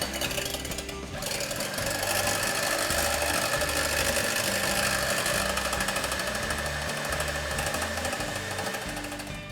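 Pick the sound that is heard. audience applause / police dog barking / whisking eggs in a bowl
whisking eggs in a bowl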